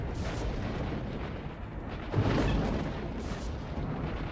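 Dense, muffled video game gunfire and booms from S.T.A.L.K.E.R.: Shadow of Chernobyl roll beneath a constant noisy din, with one heavier blast standing out midway.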